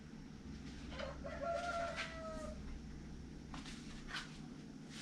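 Rooster crowing once clearly at moderate distance around a permaculture flock, followed by fainter calls, over a low steady background hum.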